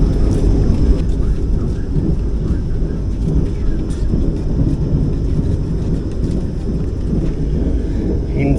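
Vande Bharat 20634 runs at speed past Varkala station, a dense continuous rumble and rattle heard from inside the train, loud and steady with no clear breaks.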